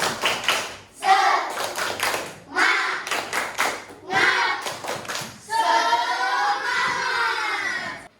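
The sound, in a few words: class doing a rhythmic spirit clap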